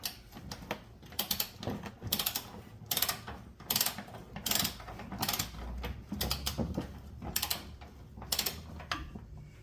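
A ratchet wrench tightens a front suspension bolt on a Silverado Z71 truck, its pawl clicking in quick repeated bursts between pauses, close and fairly loud, with no talking.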